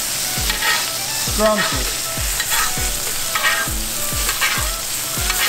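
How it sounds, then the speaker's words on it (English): Food sizzles loudly in a tilted hot pan while a spoon bastes it, scraping in a quick steady rhythm of about a dozen strokes, and a voice speaks one brief word. "tilt your pan"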